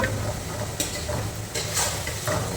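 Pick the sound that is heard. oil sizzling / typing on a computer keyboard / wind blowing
oil sizzling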